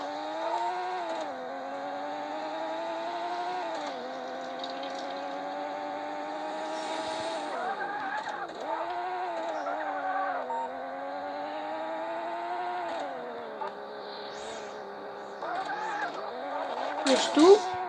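Racing car engine in the Payback 2 video game, a steady mid-level drone with gear-like pitch rises and drops throughout, with brief tire-squeal-like bursts near the end.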